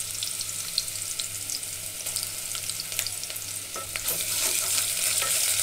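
Steady oil sizzle of ginger and garlic frying in a pan, close up, with occasional scraping and stirring clatter; no one speaks.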